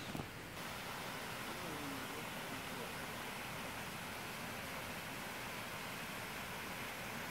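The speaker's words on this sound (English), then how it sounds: "so you could hear some of the short fountains" Steady broadband rush of short water fountains in a Japanese garden, a continuous even splashing wash that holds at constant level throughout with no voices.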